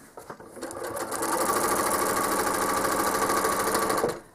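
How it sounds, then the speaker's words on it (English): Sewing machine stitching a curve during machine quilting on a feathered quilt border, a few short starting taps building into a steady fast run of stitching that stops abruptly near the end. "I'm going to stitch the next curve down to the bottom"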